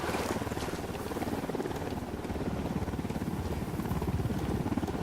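Helicopter in the Ghost Recon Wildlands video game approaching with a steady, loud rotor thump and engine drone, mixed with wind-like rushing noise and no talk.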